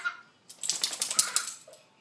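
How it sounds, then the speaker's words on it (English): A dog scratching at its itchy collar indoors, a quick burst of rapid jingling tag rattles and scratching lasting about a second, close and fairly loud. "that's my dog in the background, itching her collar"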